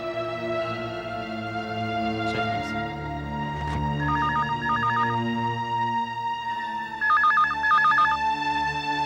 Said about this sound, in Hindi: मैडम, मिस्टर काबरा का फोन है आपके लिए